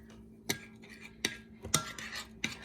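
A spoon mixing powdered sugar into melted butter for edible play dough knocks against the bowl in four sharp, separate clinks, spaced unevenly over a quiet background.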